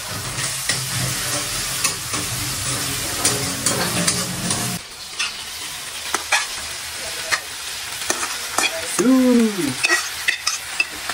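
Pasta frying in a pan while being stirred, a close scraping and clattering of the spoon over a loud sizzle that eases halfway through, followed by intermittent knocks and a brief squeaky rising tone.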